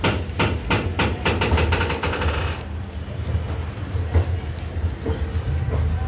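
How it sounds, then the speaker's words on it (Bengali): A passenger train pulls out of Varanasi Junction station with a quick, rhythmic clatter of wheels over rail joints, then settles into a steady, close, low rumble. "আমাদের ট্রেন তার দ্বিতীয় স্টেশন কিন্তু ছেড়ে বেরোলো এই বারাণসী জংশন স্টেশন"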